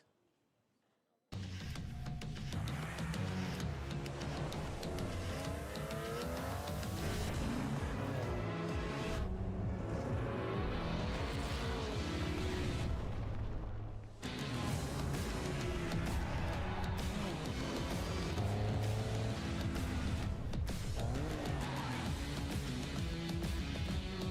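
Porsche 963 race car engine from the trailer shown at Summer Games Fest 2023, a loud, dense sustained roar with gear-change surges, cut off briefly twice and then resuming, heard alone at close range.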